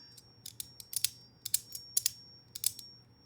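Sharp, dry plastic clicks from a fidget toy mechanism come in quick uneven bursts, some doubled or tripled, close up against a faint low hum with no voices.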